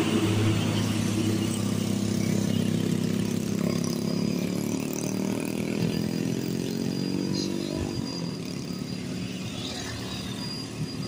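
A heavily loaded Hino 500 truck labours through a mountain bend, its diesel engine a steady, loud low drone with rising harmonics, continuous throughout and easing slightly toward the end.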